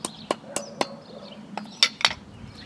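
An old hand hammer strikes something in a home kitchen, giving about eight sharp, irregular knocks spread over a couple of seconds. The blows sound close and crisp against a quiet background.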